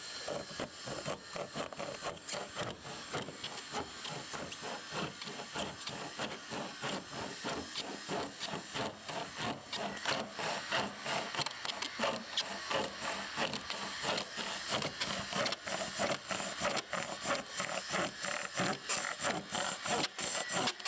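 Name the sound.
sawing a stud for ICF concrete wall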